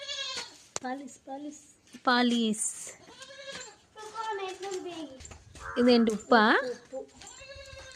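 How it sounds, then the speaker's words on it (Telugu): Goats kept indoors in a village bleat several times, with a loud wavering cry standing out near the end, while an adult and someone talk nearby. "ఇదిగో మేకలు లోపల ఉన్నాయి."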